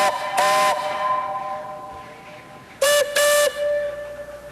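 A distant steam locomotive whistle in a snowy New Hampshire forest: two sustained harmonic whistle blasts, a longer pair of blasts a few seconds later, faint and far-off against quiet.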